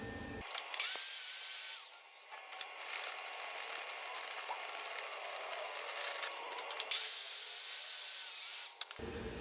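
Stick welding a stringer pass on 1-inch beveled plate with a 1/8 inch 7018 rod on a CT2050 welder: a steady close crackling hiss with brief pops, starting and stopping abruptly.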